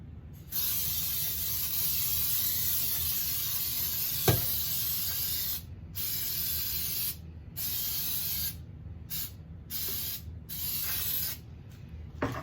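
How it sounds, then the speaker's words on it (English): Cooking spray hisses into a pound cake pan in several long bursts separated by short pauses, with a faint clatter partway through. "I'm going to spray the pan"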